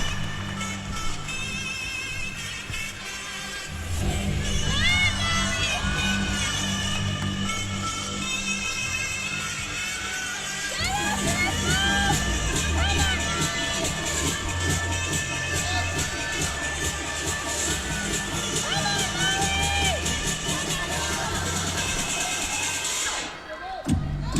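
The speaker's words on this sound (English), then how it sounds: "teammates cheering her on, giving her the last little bit of encouragement she needs going into her last tumbling pass" Gymnastics teammates cheer a gymnast on during her floor routine at a Florida at Kentucky meet, with loud, sustained crowd noise, shouting and clapping throughout and music-like tones underneath, ending abruptly.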